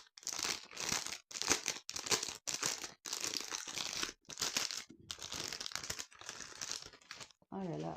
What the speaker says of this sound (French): Je vais ouvrir le deuxième sachet.